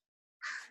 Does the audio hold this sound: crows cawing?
yes